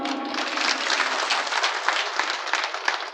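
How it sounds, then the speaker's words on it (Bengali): A crowd at a bankers' council gathering gives a sustained round of applause, thick and even with countless hands clapping together at moderate loudness, no voices on top. "আমরা কি একটি বড় হাততালি দিতে পারি?"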